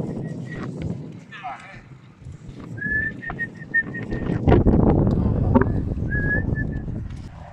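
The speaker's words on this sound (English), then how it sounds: "and if you whistle then it helps" A person whistles short, high, thin notes to help a Friesian horse urinate at the beach, with hoof clops and wind in the background and people talking nearby.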